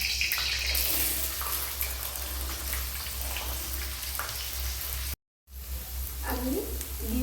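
Chopped green beans drop into hot oil in a wok, making a moderate hiss that fades slightly, briefly cuts out, then returns.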